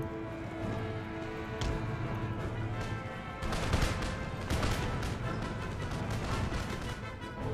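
Cannon and musket fire in an Empire Total War battle, a continuous dense roll of gunshots and booms with a louder burst of volleys partway through, sustained and fairly distant.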